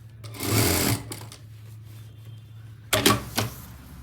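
A sewing machine stitches pasting paper folded along the neckline of an embroidered suit, running in two short rattling bursts separated by a quiet pause.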